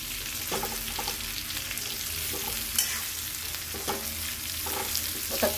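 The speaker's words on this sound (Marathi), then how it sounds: "कारले पूर्ण आपले दोन्ही साईडनं पण असे चांगले परतून झालेले" Stuffed bitter gourd fries in a pan, with a constant bright sizzle close up and occasional soft scrapes and taps as the pieces are turned.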